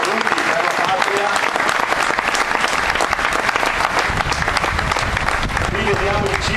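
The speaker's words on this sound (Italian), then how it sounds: "un applauso per questo gesto dovuto" Dense, loud clapping from a gathering at an Alpini festival in Mornico al Serio, honoring those fallen for their country, runs steadily for over six seconds while scattered voices speak beneath it.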